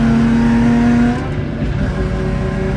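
A Nissan Z sports car drives hard alongside a Camaro, a loud close engine drone with a steady tone that drops as the revs fall and then holds at a lower pitch.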